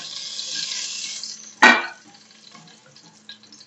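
Oil sizzling gently as whole spices fry in a pan for chicken biryani, with a sharp scraping stir in the middle and a few small clinks afterward.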